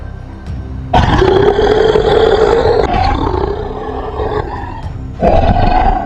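A loud, long dinosaur roar from a toy cartoon booms close up, then eases into a growling rumble before a second roar bursts in near the end, with no talk.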